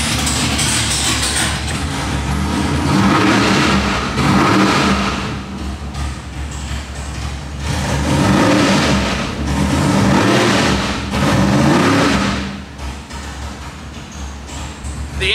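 A 632-cubic-inch big block Chevy V8 idling on a dyno while warming up, a loud, lumpy, rumbling idle that surges and dips in slow waves, heard close with no talk.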